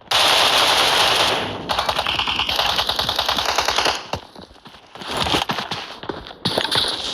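Automatic gunfire rattles in PUBG Mobile, loud, close bursts of rapid shots that stop briefly and then start again, with no voices over them.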